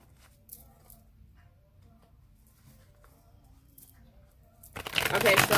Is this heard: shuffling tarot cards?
yes